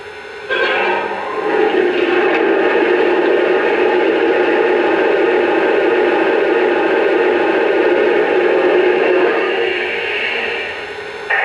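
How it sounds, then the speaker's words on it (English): Water sound effect of a Lionel Reading T-1 model locomotive tender being filled gushes in a steady, loud rushing stream for about ten seconds, starting and stopping abruptly, with no talking. "Here's the sound of water being added to the tender"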